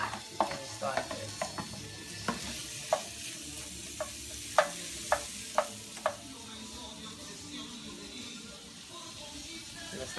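Onions and peppers sizzle in a hot pan, a soft continuous frying hiss punctuated by a series of sharp spatula taps and scrapes against the pan.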